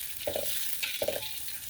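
Noodles for mee goreng are stir-fried in a pan, a soft continuous sizzle broken by two short scraping strokes of a spatula, close but quiet.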